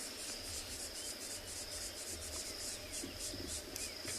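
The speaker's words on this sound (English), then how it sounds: "some crickets as well as the sun bakes" Crickets chirp steadily in South African bush under a hot morning sun, a dense, continuous high insect trill with faint bird calls in the background.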